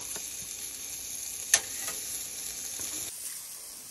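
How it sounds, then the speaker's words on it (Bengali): Burger meat sizzles on a hot grill, a steady, close hiss of frying with a single sharp tick partway through before the sizzle softens. "গ্রিল হচ্ছে, এখানে বার্গার করা হচ্ছে"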